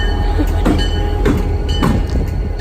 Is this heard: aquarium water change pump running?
no